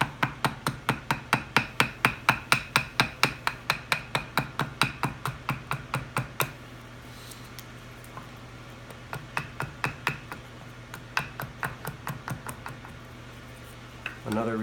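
Quick, sharp chops from an axe striking a redbud billet while a spoon blank is shaped, starting as a fast, even run of loud hits, then a short pause, then more irregular blows. Someone talks quietly under the work.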